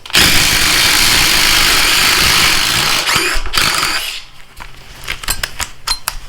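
A DeWalt DCF840 impact driver spinning a 1 inch Diablo spade bit, a loud continuous whirring drive for about three seconds that breaks up and dies away, followed by scattered clatter and knocks.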